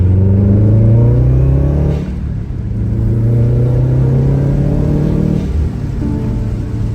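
A Subaru engine warming up runs with a low, steady rumble, its pitch easing up and down as it idles close by; the car has a smoking problem tied to the PCV valve.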